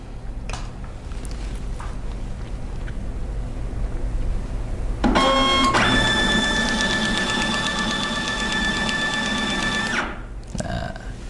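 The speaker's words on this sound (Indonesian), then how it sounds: "Nah, kita print sebanyak 99" Kassen E460 barcode label printer running a 99-label job over Ethernet, starting with a sudden rattle and settling into a steady mechanical whir with a high tonal whine for about five seconds, then stopping abruptly.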